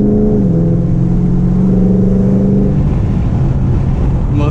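A car engine revs hard and steadily close by on a canyon road, a rising tone sliding and holding under constant road and wind roar as a Mustang gives chase.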